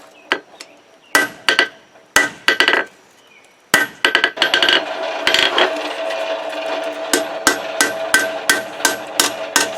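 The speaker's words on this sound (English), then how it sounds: "I'm going to take a straight peen, well, cross peen hammer, but with the straight peen, and do some lines in there" A cross peen hammer strikes a Bowie knife blade, peening lines into the steel with sharp metallic clanks. Early blows come in separate groups with pauses between them, then give way to steady rhythmic strikes over a ringing tone.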